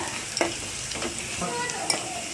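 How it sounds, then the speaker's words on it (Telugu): Onion, green chillies and curry leaves frying in oil with a steady close sizzle, broken by a few distinct scrapes of a spoon stirring through the pan. "చూసారా మంచిగా ఫ్రై అయింది ఆనియన్ ఇంకా పచ్చిమిర్చి ఇంకా కరివేపాకు కూడా మంచిగా ఫ్రై అయ్యాయి"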